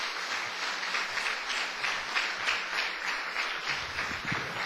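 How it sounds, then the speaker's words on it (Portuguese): Church congregation clapping for Jesus during a sermon, a steady dense wash of applause sustained throughout without talk over it. "Quem pode dar uma salva de palmas para o Senhor Jesus?"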